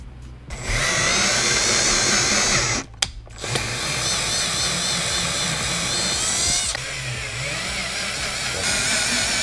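A power drill runs steadily for several seconds, driven to tap threads during a car stereo install in a 1996 vehicle, with a brief stop and restart and a slight drop in pitch partway through.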